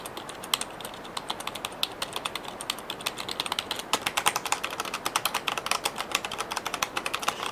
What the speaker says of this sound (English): and just a normal membrane keyboard.